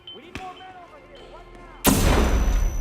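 A flash grenade goes off in the video game Hitman 2, a sudden loud bang followed by a sustained harsh ringing roar that covers the quieter game sounds before it.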